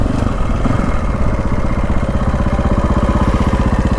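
A KTM 525 dual sport motorcycle engine runs close and loud with a steady, rhythmic thumping beat, alone with no voices.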